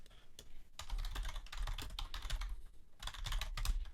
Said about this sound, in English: I have to type.